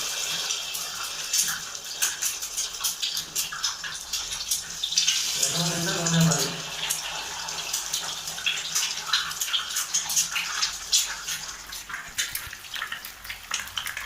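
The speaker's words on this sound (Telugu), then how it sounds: "ఇప్పుడు ఆయిల్ వేడైంది. ఇందులోకి ఎగ్ని యాడ్ చేయాలి." Egg sizzles and crackles in hot oil in a pan while egg noodles are cooked, a dense continuous frying hiss with popping, steady and close throughout.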